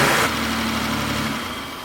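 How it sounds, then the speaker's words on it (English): A BMW 735iL engine runs steadily after a grounding fault was repaired, holding a low idle hum close by. A brief louder rev opens the sound, then it settles and slowly fades. "We got a running vehicle."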